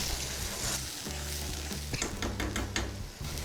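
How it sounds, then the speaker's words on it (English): Sauce mixture hitting a hot pan, loud close sizzle with stirring clinks and scrapes of a utensil against the pan, no voices. "I'm going to add in our sauce mixture."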